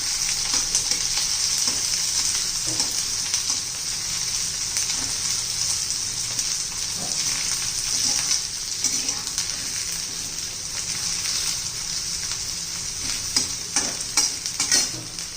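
Capsicum and onion are sautéed in a pan, a continuous sizzle with frequent stirring clatter and scrapes growing busier toward the end.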